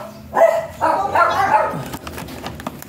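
A dog barks and yips in a few sharp bursts close by, ending in a softer whimpering tail.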